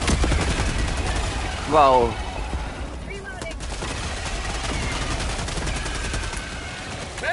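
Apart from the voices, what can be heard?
gunfire in video game Helldivers 2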